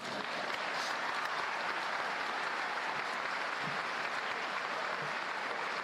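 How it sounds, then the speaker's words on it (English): A large audience at a university commencement ceremony applauds after a master's degree in athletic coaching is conferred, a dense, even wash of clapping sustained throughout and heard from within the hall. "Is anybody going to clap?"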